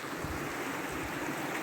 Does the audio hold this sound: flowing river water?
yes